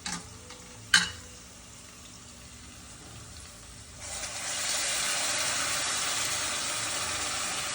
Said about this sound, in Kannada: ಚೆನ್ನಾಗಿ ಈರುಳ್ಳಿ ಬ್ರೌನ್ ಕಲರ್ ಬರೋವರೆಗೂ ಬೇಯಿಸ್ಕೊಳ್ಬೇಕು.